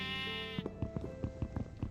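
Sheep bleating in Minecraft: a long held, wavering bleat followed by a run of short rhythmic blocky thuds, close and fairly loud with no talking.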